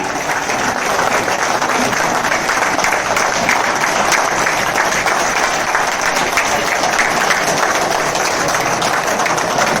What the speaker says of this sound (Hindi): तालियों की गड़गड़ाहट बजती रहे जब तक इन्हें सर्टिफिकेट अवार्ड से नहीं नवाजा जाता है